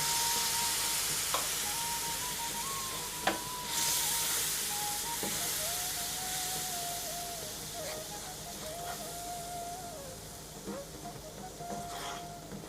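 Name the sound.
vinegar added to frying pickle masala sizzling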